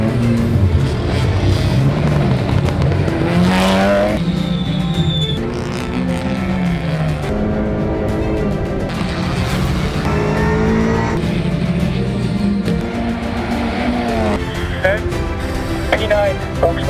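Onboard a WTCR touring race car on a qualifying lap in Malaysia, the engine screams loudly and repeatedly as it climbs through the gears and drops back for corners, with brief tire squeal mixed in.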